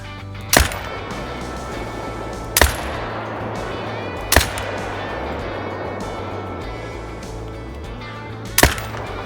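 Four loud, sharp rifle shots while hunting red deer in the video game theHunter: Call of the Wild, spaced about two seconds apart over a low, steady outdoor ambience.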